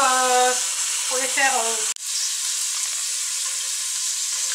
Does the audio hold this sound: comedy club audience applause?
no